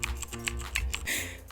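Slow typing on a computer keyboard close to the microphone, a handful of separate key clicks at an uneven pace, alone and quiet.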